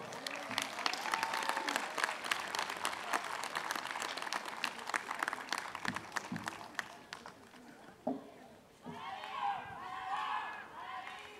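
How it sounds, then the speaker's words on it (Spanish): A crowd applauds loudly and steadily at a Niño Dios celebration, clapping dense and sustained, then fades and gives way to scattered voices and cheering near the end. "Vamos a darle un fuerte y caluroso aplauso."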